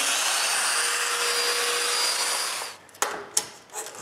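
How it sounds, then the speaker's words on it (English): A Festool Domino joiner whirs loudly and steadily while drilling mortises in wood for a bathroom towel cabinet, then cuts off, followed by a few sharp clicks and knocks. "I just need to mark the placement of the domino mortises and drill them"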